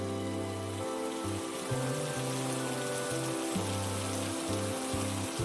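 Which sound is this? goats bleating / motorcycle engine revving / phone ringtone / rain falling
rain falling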